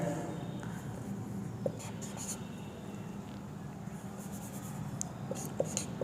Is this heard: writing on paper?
yes